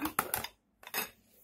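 Plates are handled in a home kitchen while dinner is served, giving a few close, bright clinks and clatters of dishware in two short clusters.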